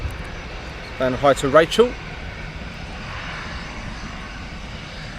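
Airliner taxiing at Manchester Airport, a steady low engine hum running throughout as a distant background drone, with a short burst of talk near the start.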